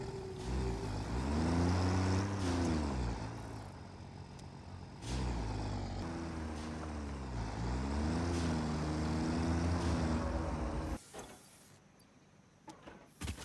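A vehicle in the game Satisfactory revs and accelerates, its engine pitch climbing and falling through gear-like sweeps, then cutting off abruptly near the end, with mechanical clunks alongside.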